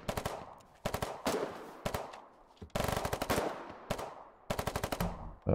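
Sniper and small-arms gunfire in the war game Foxhole: loud bursts of rapid automatic shots, about six volleys separated by short pauses, with no talking.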